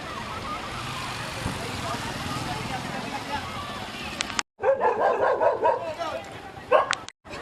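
A dog barks in quick bursts, close by, with short yips mixed in, over a busy background of voices and street noise.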